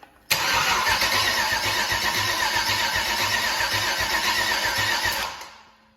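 An LS 6.0 V8 engine is cranked over by its starter. The cranking is loud and close, a steady rhythmic churn lasting about five seconds, then it cuts off and fades without the engine firing.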